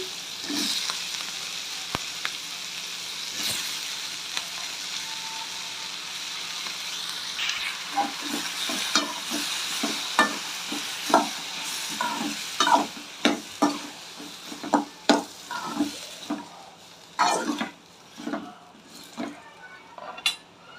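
Tomatoes for chutney frying in a pan while a spoon stirs them, a soft sizzle underneath a run of sharp scraping clicks and knocks of utensil on metal that grow busier and louder toward the end.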